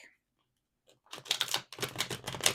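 Tarot cards are shuffled close by: after a near-silent pause, quiet papery riffles come in two quick bursts of crisp flutter and snapping.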